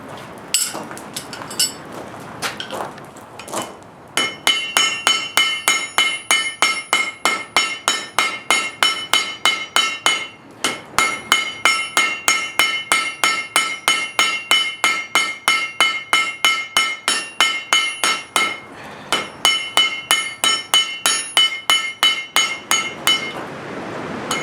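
Steady hammer blows forging a steel chisel on an anvil, dozens of sharp ringing metallic strikes in fast regular runs with brief pauses between bursts, loud and close.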